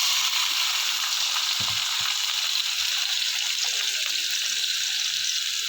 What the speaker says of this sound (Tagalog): Gigisa muna ako guys.